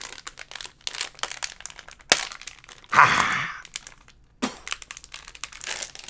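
A plastic blind bag package is crinkled, squeezed and torn at while someone struggles to open it without scissors, giving loud, close crackling bursts with one sharp rip in the middle and brief pauses.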